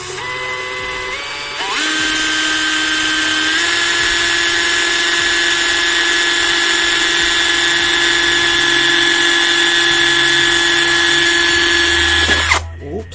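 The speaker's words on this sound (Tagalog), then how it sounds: "So ito, butasan lang natin to. Kaya tayo may electric drill." A close, loud electric drill whines steadily for about eleven seconds while boring a hole in plastic, its pitch holding nearly constant before the motor stops near the end.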